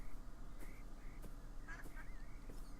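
Several short nasal duck calls sound in scattered bursts over a steady hum, moderately distant and fairly faint, in the video game Beyond Eyes.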